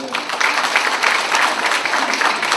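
Indoor audience applause at a corporate vision declaration ceremony, loud and sustained even clapping from a sizeable crowd with no voices over it.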